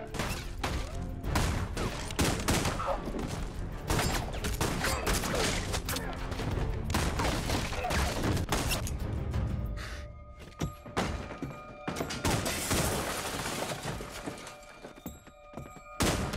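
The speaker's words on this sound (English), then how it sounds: "Everyone's just like getting shot like everywhere" Film action sequence with volleys of gunfire and gunshots, mixed with horse hooves, whinnies and crashes, dense and loud with bursts throughout, and brief voices under the chaos.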